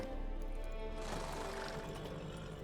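A horse in the video game The Witcher 3 gives a whinny over a steady background bed, with faint hoof-like clopping, moderately quiet.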